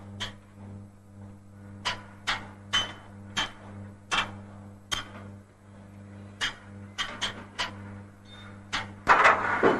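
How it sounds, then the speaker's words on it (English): A hammer taps against large pipes inside a steam locomotive's smoke box, sharp metallic knocks at irregular intervals over a steady low hum, ending in a louder clatter. "he climbs inside the smoke box to hammer test the large pipes for"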